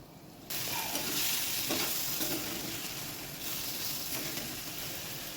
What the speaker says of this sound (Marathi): आणि एकसारखं इथं आपल्याला 2 ते 3 मिनिटं सतत मिक्स करत राहायचे, परतून घ्यायच्या चांगली